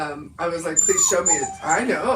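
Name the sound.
puppy whimpering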